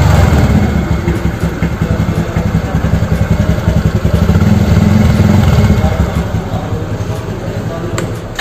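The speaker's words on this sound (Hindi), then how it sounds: "और आप इसका सुनते हैं एग्जॉस्ट साउंड।" A TVS NTORQ 125 Race Edition scooter idles close by, its exhaust putting out a steady low, throbbing putter that rises a little in the middle and holds loud throughout.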